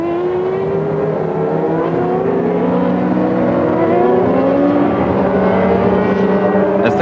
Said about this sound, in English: As the cars take up position, Coulthard's engine stalls and the start is